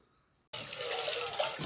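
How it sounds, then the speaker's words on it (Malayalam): Tap water running into a vessel to collect water for tea, a sudden steady loud gush that starts after a short quiet pause and continues alone. "ചായക്കുള്ള വെള്ളം ഞാൻ എടുക്കുകയാണ്"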